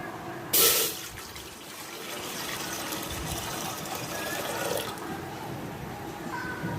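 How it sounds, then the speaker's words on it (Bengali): Water pours into a pot sitting on a stove, opening with a sharp splashing gush and then settling into a steady rushing fill. The sound is near, and there is faint background noise. "চুলাতে একটা পাতিল বসিয়ে দিয়েছি এবার দিয়ে দিব অর্ধেক পাতিল জল"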